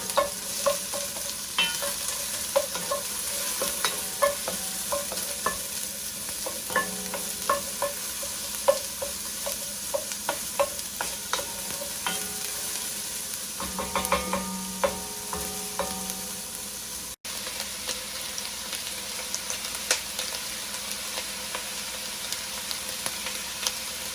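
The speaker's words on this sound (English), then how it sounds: "And then we're going to mix the onions. Saute them for about 2 minutes." Onions stirred and sautéed in a pan for a spicy Italian sausage rice dish, giving a steady close sizzle with repeated scraping and clinking of the spoon, a busier burst of stirring about two-thirds through.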